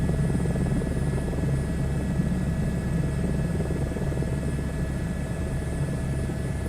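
A helicopter in a VR flight game drones steadily with a low rotor thump and constant engine whine, loud and unbroken throughout with no voices.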